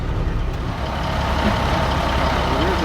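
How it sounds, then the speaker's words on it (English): A water truck driving past in a dusty mining pit, a steady heavy diesel rumble that stays loud and close throughout, with faint tonal whines mixed into the engine noise. "Oh, there's a water truck."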